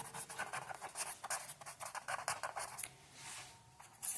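Quick strokes of marker or chalk writing on a board, a steady run of short scratchy bursts that pauses briefly near the end before one more stroke, fairly close and alone.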